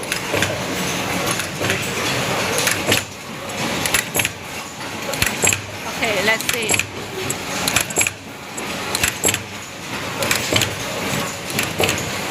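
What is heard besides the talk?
QLQ-HPM automatic plastic zipper hole punching machine running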